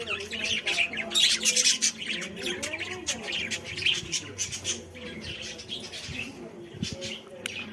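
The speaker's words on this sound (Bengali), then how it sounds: "এখানে এখনো পাখিও পুষে রেখেছে দারুণ" Caged pet birds call inside a historic house, with bright chirps and squawks mixed with soft cooing, moderately close. Scattered and irregular, they come over low background murmur.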